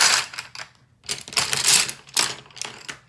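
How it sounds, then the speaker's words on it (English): Coloured pencils rustle and clatter together in a series of dry, clicky bursts, close and fairly loud, separated by short pauses, with no talking. "I kind of like that noise of them all rustling together"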